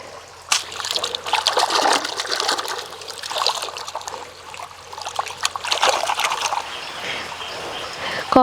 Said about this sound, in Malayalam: കൊട്ടയിലിട്ട് അങ്ങോട്ട് നന്നായിട്ട് തിരിഞ്ഞ് കഴുകുക.